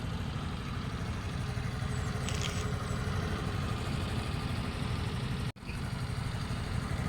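A Neco Abruzzi 125 motorbike engine runs steadily at close range, a continuous low rumble and idle with a brief cut near the end.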